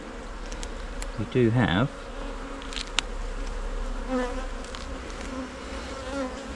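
Honey bees buzz around an open hive during an inspection, a steady mid-pitched hum with individual bees droning close past. Someone speaks briefly over the swarm sound.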